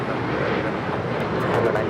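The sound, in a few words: Boeing 737 MAX 9 departing LAX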